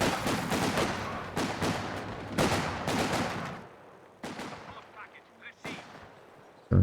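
Machine gun and artillery fire in a real-time strategy match, with dense overlapping bursts and booms that thin out into scattered shots, while a caster's voice talks underneath.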